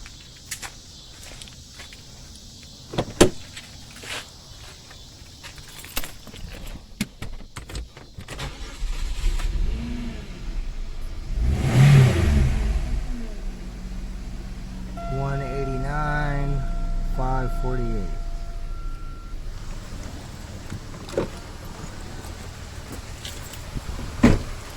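A 2001 Chevy 2500HD truck cranks and starts after a driveshaft rebuild, then idles with a low steady rumble, preceded by clicks and handling noises, with a whining tone rising partway through.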